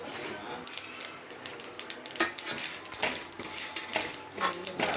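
Sesame seeds being dry-roasted in a pan make rapid, irregular metallic clinks and scrapes from a spatula against the pan, moderately quiet and continuous, with the seeds rattling lightly between strokes.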